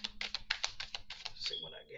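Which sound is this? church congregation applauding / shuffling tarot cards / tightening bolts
shuffling tarot cards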